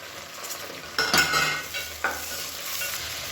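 Onions with mint, coriander and green chillies sizzle and brown in a pan for mushroom biryani, a continuous frying hiss broken by two distinct scraping, clattering stirs of a spoon against the metal.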